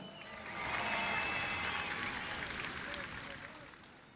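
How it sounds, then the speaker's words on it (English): A crowd at a Long Beach drift competition applauds for the mayor, the clapping and cheering swelling quickly to a full roar, then slowly fading away. "Another big round of applause for the mayor and the city of Long Beach"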